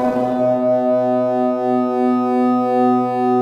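Sustained sci-fi synth tone from a Max MSP sound design tool, passed through a reverb effect, rings steadily with stable harmonics and a slowly pulsing swell, heard alone at moderate loudness.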